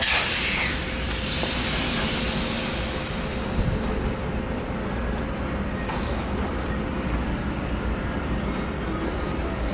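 Air hisses steadily from the Schrader valve of a helper air bag on a lowered 2015-2022 Ford F150 with an IHC kit, a broad, loud spray strongest at the start and easing into a constant rush.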